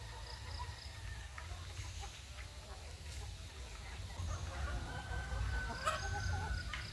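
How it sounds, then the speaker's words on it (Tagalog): Farmed chickens cluck and chatter at a distance over a steady low rumble, with occasional brief higher calls breaking through. "Kunti na lang yung ating manok"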